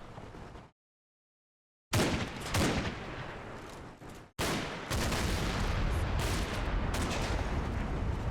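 Combat Mission: Battle for Normandy battle sounds, loud bursts of tank and gunfire shots with a sudden gap of silence, then dense rolling volleys and booms continuing to the end.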